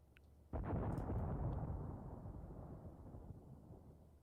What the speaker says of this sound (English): That sound like mortars, perhaps?